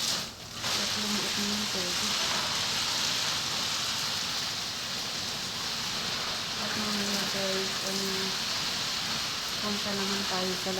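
A garden hose spraying water over potted plants in a small home garden, a steady loud hiss of spray throughout, with a person speaking and some faint tonal sounds in the background.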